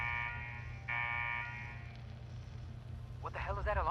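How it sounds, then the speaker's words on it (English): An alarm blares in the Fallout 4 Nuka-World Beverageer Lab as a steady, buzzing tone that holds for about two seconds and then fades, with a voice breaking in near the end. "What the hell is that alarm?"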